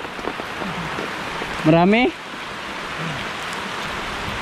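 Steady rain falling in a forest, a dense even hiss throughout, briefly interrupted by a short spoken word partway through.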